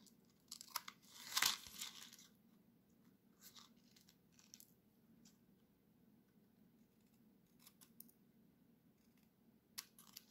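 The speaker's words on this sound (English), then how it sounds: "And then we'll trim off any excess that we have." Paper being trimmed off a handmade floral greeting card at a crafting table, a quick burst of scissor snips and crinkling paper near the start, then faint scattered small clicks and rustles over a low room hum.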